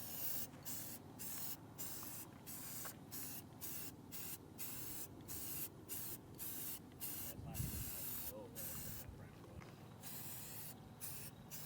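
Spray gun applying a light coat of paint to a car hood outdoors in the desert, a steady continuous hiss broken by regular short pauses between passes, close and fairly loud, with a brief low thump partway through.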